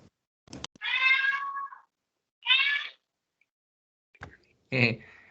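A house cat meows several times, clear and close: drawn-out mews and a shorter final cry separated by silent pauses, with a few soft knocks between.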